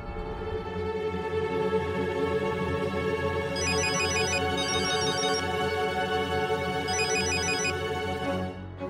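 A phone ringtone chimes in repeated electronic bursts over a sustained tonal background, steady and fairly loud, with no voices.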